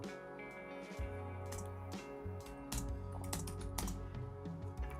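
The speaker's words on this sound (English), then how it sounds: "I'm typing the question in chat." Rapid keyboard typing clatters in irregular bursts close by, over a faint background hum.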